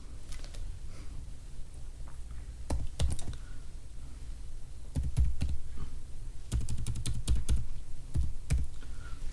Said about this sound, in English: So type vibrational frequency scaling factors.